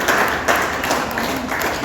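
Audience clapping and applause at an art exhibition, a steady dense patter of many hands lasting throughout, fairly loud and close.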